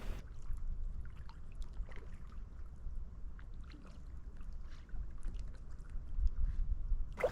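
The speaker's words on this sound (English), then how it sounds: "Right now I'm paddling pretty much directly towards the shoreline" Inflatable kayak paddled across a lake in the northern Cascades, with soft intermittent splashes and drips of water from the paddle strokes over a low, rumbling ambient background.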